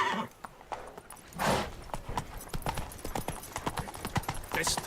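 Roach, a horse in The Witcher 3 game, gallops with rapid, rhythmic hoofbeats, with a brief whinny or snort early on. A voice speaks briefly over the hooves.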